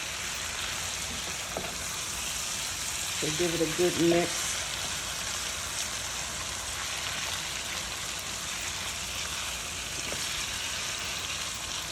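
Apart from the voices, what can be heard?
seafood and vegetables stir frying in oil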